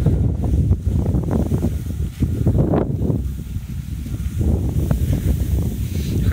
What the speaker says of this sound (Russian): Ветер очень сильный стал, усиливается и колышет осеннюю траву.